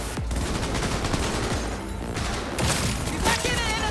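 Dense, rapid gunfire from the Cyberpunk 2077 video game crackles almost continuously in bursts, loud and close, with a few heavier blasts mixed in.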